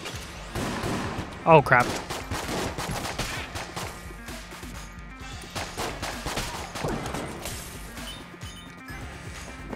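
Video game gunfire in Enter the Gungeon, a burst of loud impacts and crashing shots near the start, then scattered lighter shots over busy game music, with a voice speaking briefly.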